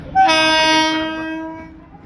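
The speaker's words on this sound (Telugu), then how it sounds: "సో ఈ కప్లింగ్ తోటే మన ట్రైన్ అయితే తరపతి వెళ్ళబోతుంది" A train with a white locomotive sounds its horn in one loud, sustained blast close by, then fades over about two seconds.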